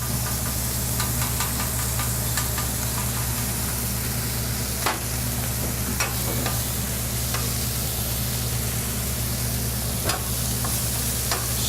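House-made chili heating on a restaurant griddle, a loud continuous sizzle and hiss close up, with occasional scraping and knocking of a utensil.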